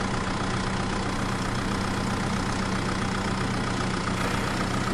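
A farm tractor engine idles in a steady, continuous rumble close by, with no voices.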